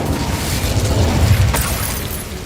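In Hogwarts Legacy, casting the Incendio fire spell gives a loud rumbling whoosh of flame with low booming texture, followed by a sharp crackling burst near the end, with no talk.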